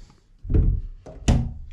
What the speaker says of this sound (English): Just perfect, shut these doors.